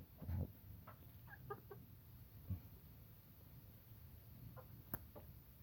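Old-line Thai fighting chickens and roosters cluck in short scattered bursts, fairly faint and spread out, with a couple of louder calls over a quiet outdoor background.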